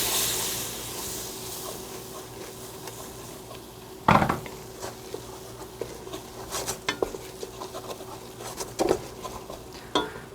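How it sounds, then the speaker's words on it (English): A soft sizzle as Worcestershire sauce hits a hot pot of cheddar beer soup, with metal clinks and stirring scrapes, a few sharper bursts of bubbling and clatter partway through. "It's going to sizzle a little because it's got water"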